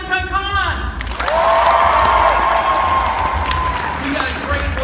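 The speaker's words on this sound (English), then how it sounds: "Can I get a big round of applause for zenkaikon?" A convention audience at the Zenkaikon 2019 voice actor panel breaks into loud applause and cheering. A voice is heard briefly just before the clapping swells, and the sound then holds steady to the end.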